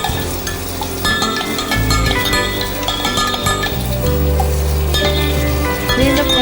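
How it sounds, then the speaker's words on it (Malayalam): Beef gravy bubbling and sizzling steadily in a pot on a stovetop, a dense continuous hiss and simmer with occasional metallic clinks of utensils, loud and close, with no talking. "വീണ്ടും ഞാൻ ബീഫ് ഇങ്ങനെ അടുപ്പത്തി എത്തിച്ചു കൊടുത്തിരിക്കുകയാണ്. അപ്പോൾ ഇങ്ങനെ തിളച്ചുകൊണ്ടേയിരിക്കുന്നു."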